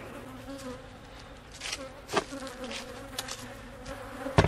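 Honeybees buzz softly and continuously around a hive during a fall honey harvest, with a few light knocks and clicks scattered through.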